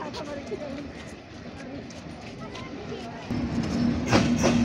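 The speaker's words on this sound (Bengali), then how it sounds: "ট্রেন আসছে, বেনাপোলে যাচ্ছে এই ট্রেনটা।" A train from Khulna bound for Benapole rumbles into Jessore railway junction, Bangladesh, with steady low mechanical noise that swells louder near the end, a horn-like tone rising, with people talking over it.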